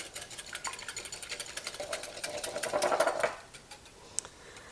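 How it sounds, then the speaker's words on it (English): A single egg being whisked in a bowl, a quick, steady ticking clatter that speeds up and grows louder before stopping, with a lone sharp tap afterwards. "Now I'm going to go ahead and whisk this up."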